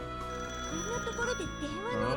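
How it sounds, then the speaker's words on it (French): A telephone rings in the Digimon Adventure video game, its repeated electronic trill sounding steadily throughout alongside game music and a talking voice. "Le téléphone sonne."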